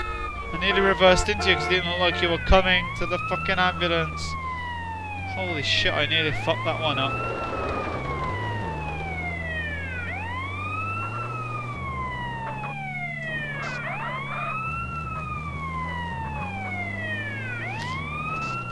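Ambulance siren from the video game GTA San Andreas wails in repeated rising and falling sweeps throughout, loud and steady over an engine drone, with someone talking over the start.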